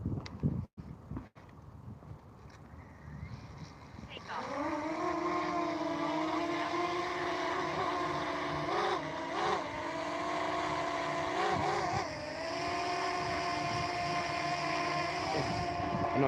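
A camera drone spins up and flies, with a steady, loud, close rotor whine that holds its pitch with slight wavering, after a few seconds of handling knocks and wind noise.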